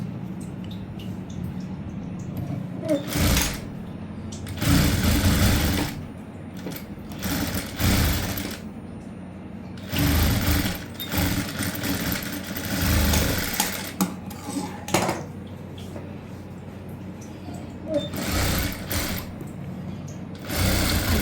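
A sewing machine stitches a prince cut blouse in loud, close bursts of rapid running separated by short pauses, each run starting and stopping abruptly, with no talking over it.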